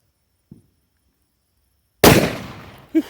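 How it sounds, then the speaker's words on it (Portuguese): Homemade firecrackers set off at a rural São João bonfire celebration: a faint early pop, then one loud sharp blast with a crackling, fading tail, followed by a second short pop. "Aqui é umas bombinhas caseiras."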